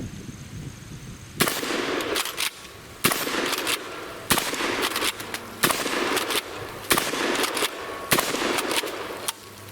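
Keltec KS7 bullpup shotgun firing birdshot outdoors, seven loud sharp blasts spaced roughly a second or so apart, each with a brief ringing tail over quiet background.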